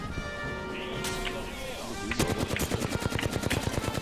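Rapid automatic gunfire in the Apex Legends video game, a fast steady burst of shots starting midway and continuing to the end, loud and close, following a stretch of game ambience.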